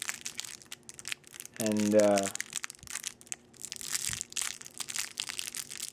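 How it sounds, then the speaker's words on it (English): Plastic packaging being pulled open and crinkled from around a tiny camera, sharp crackling bursts that come and go, with one brief spoken word near the start and a short tonal sound in the middle. "let's just take this out of the plastic real quick"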